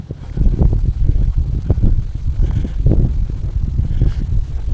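Wind blows outdoors in a park as gusty, low rumbling buffeting that rises and falls in bursts, fairly loud and close, with no talking.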